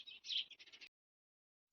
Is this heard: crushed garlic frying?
no